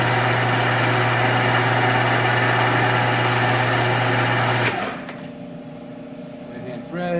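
A Monarch 10EE lathe runs in right-hand threading mode with a loud steady machine whine and drone, then winds down after about five seconds to a quieter hum.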